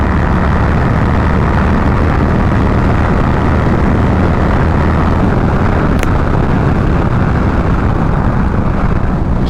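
Motorcycle fitted with a fairing riding at full throttle around 108, heard as a loud, unbroken roar of wind and engine from the rider's position, with no talk.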